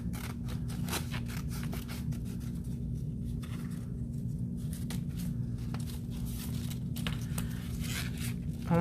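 Scissors snip through paper in short, quiet, uneven cuts as a dragonfly shape is cut out in one piece, with a low steady hum underneath.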